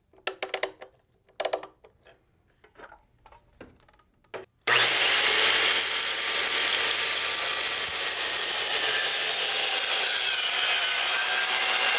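After some quiet handling and a few light taps, a power saw starts abruptly and cuts through a wooden board for a farmhouse table, a loud, sustained whining buzz that holds steady for several seconds.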